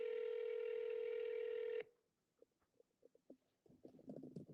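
A steady electronic voicemail tone holds for almost two seconds, then cuts off abruptly and is followed by quiet, scattered clicks and soft rustling noises.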